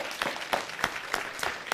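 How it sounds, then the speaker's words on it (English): Brief scattered clapping at a city council meeting, a handful of people applauding with a few distinct, uneven claps at moderate volume. "Give her a nice round of applause."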